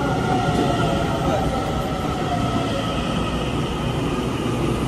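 A train passes in Taiwan, a loud, steady rumble and roar with a continuous broadband wash that holds level throughout, fairly close by.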